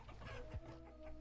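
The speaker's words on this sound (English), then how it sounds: "I heard a chick." Chicken chick clucking in the survival game Vintage Story, a few soft clucks near a hen box over a steady low game ambience, with one brief low thump midway.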